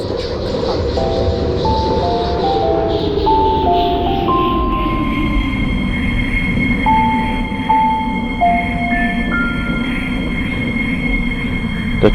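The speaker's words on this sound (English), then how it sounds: "The train is arriving at Ascot Green Station." An Airport Express train arriving at Ascot Green Station, a heavy rolling rumble that slows and settles while high wheel squeals and brake tones chirp in stepped pitches above it, close and continuous.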